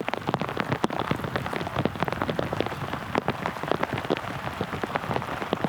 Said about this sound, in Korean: 고마운 비가 곳곳에 내리고 있습니다.